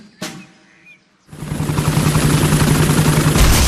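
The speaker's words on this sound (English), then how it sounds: "Miss Rabbit's helicopter has rescued Daddy Pig." A cartoon helicopter swoops in to rescue, its rotor chopping and engine whirring loud and close after a short pause, preceded by a brief chirpy sound effect.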